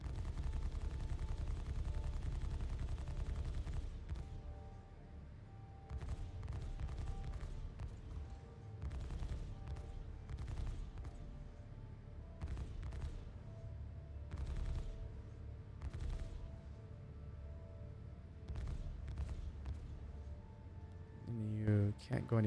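Ship guns on a Starlancer TAC in the space game Star Citizen, set to maximum weapon power, fire in repeated rapid bursts. Someone talks over the shots.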